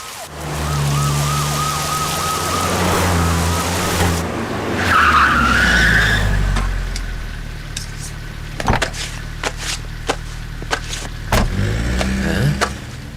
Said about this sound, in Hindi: पुलिस की 4 गाड़ियां छोड़ने आई थी।